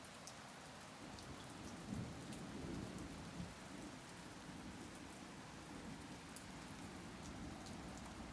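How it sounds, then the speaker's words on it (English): Light rain patters steadily as a thunderstorm passes, a faint, continuous wash of drops with a soft low rumble swelling briefly in the distance. "it is still raining a little bit."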